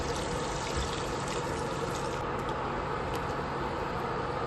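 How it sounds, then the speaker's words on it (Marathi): Water pours onto brinjals in a pan in a steady, continuous splashing hiss that stays even from start to finish, with no voices. "आता हे पाणी वांग्यामध्ये टाकायचं आहे"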